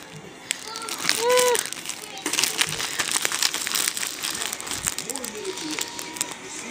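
Plastic bags holding sterile baby-care items crinkle and rustle as they are handled up close, in irregular crackling bursts, while someone talks over them and a voice briefly chimes in.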